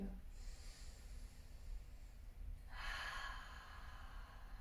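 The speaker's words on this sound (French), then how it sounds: "Et on prendra 3 profondes respirations dans cette posture." Two slow, deep breaths are taken while holding a yoga posture: a long airy inhale or exhale, a short pause, then another fuller breath, close and fairly soft.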